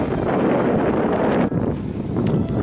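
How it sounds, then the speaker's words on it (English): Strong wind roars and buffets the microphone throughout a bushwalk, a steady, loud rush with no pauses. "It's pretty windy, so hopefully this wind isn't too bad on the old speaker there."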